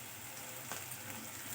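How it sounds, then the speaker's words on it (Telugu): Turmeric fries quietly in hot oil in a pan for egg masala curry, a faint, steady sizzle with a brief scrape partway through. "పసుపు కూడా వేగిపోయిందండి."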